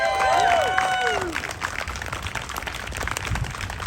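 A rally audience at a May Day event bursts into applause and cheering as a speaker's voice fades out, then dense, sustained clapping continues to the end.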